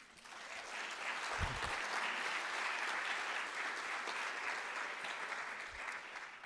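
Sustained applause from a civic audience at a city State of the City address in Gaithersburg, Maryland, a dense steady clapping wash holding for several seconds with no speech over it.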